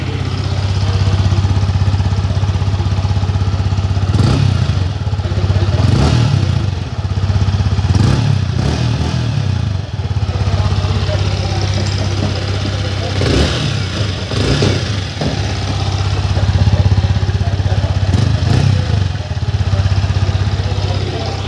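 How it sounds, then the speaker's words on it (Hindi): A 2023 Yamaha MT-15 Version 2.0 motorcycle engine idles steadily with a low throb, then revs sharply several times in short bursts before settling back to idle. "चलिए सबसे पहले बाइक की आवाज़ को सुनते हैं"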